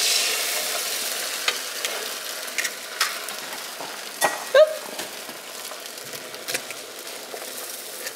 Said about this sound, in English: just frying them just like this in this pan